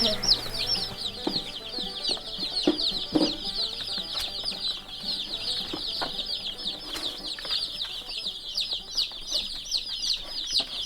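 Dozens of baby meat chickens fill a warm brooder with a constant high chorus of chirping and peeping, plus occasional soft rustles and bumps close by.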